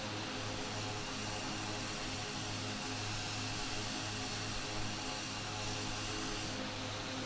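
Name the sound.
aircraft engine in flight simulator video game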